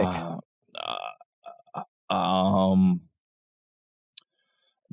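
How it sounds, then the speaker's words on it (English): A person belches on a podcast: a long, loud, voiced burp rumbling low for nearly a second, followed by a short sharp click and a faint start at the end, with shorter voiced bursts before it. "People belching in podcasts."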